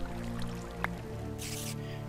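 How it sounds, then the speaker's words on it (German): Water flows in Minecraft (FTB Ultimate modpack), heard as a brief, soft, splashy hiss partway through. Steady tonal background music sits underneath. "Und hier ist Wasser."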